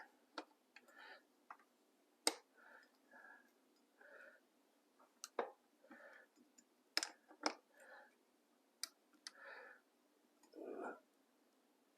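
Small wrench clicking while tightening a pedal on a Ride1Up Turris e-bike during assembly, a quiet series of sharp irregular ticks and ratchet clicks with soft handling noises in between.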